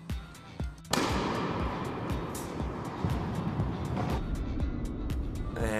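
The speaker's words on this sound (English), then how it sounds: "Here's an impact on the outside edge of the ball." A tennis racket strikes a volley on the outside edge of the ball, one sharp, crisp pop standing out after a few faint taps, followed by a short burst of court ambience.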